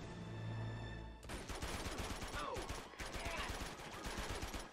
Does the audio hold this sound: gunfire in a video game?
yes